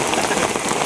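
Steady heavy rain pours down during monsoon net fishing for climbing perch and catfish beside a garden. It makes a loud, unbroken hiss and patter with no pauses or voices.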